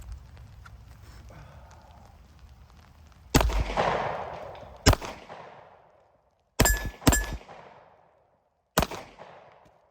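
A Glock 43X pistol with night sights fires four sharp, close gunshots at irregular intervals, each followed by a brief ringing echo, with low handling noise before the first shot.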